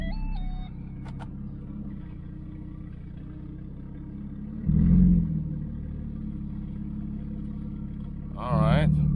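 A 1993 Mercedes 600SEC rolls forward in gear, a low steady engine rumble swelling briefly twice as it moves, with a voice speaking over it.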